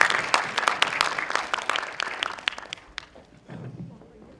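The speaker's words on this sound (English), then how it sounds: "Let's welcome Ms. No on the stage with a round of applause." An audience at a university orientation applauds to welcome a speaker onto the stage, with sharp, close claps that thin out and die away, and a voice begins at the end.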